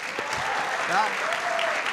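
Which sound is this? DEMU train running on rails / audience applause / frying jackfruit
audience applause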